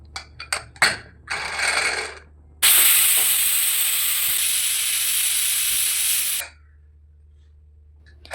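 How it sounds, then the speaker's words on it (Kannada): A pressure cooker of avarekalu mutton sambar clatters in a few short bursts, then lets out a loud, steady whistling hiss of steam for about four seconds before it cuts off abruptly. "ಇವಾಗ ಕುಕ್ಕರನ್ನು ಮುಚ್ಚಿ 2 ವಿಸಿಲ್ ಬರೋ ಗಂಟ ವೇಟ್ ಮಾಡೋಣ"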